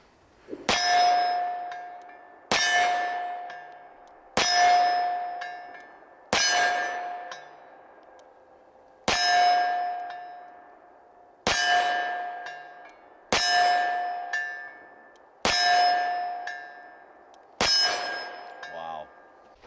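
Dan Wesson Kodiak 10mm 1911 pistol fired one-handed outdoors in snow: nine sharp, loud shots spaced about two seconds apart, each with a bright ringing tail, ending with a brief rustle.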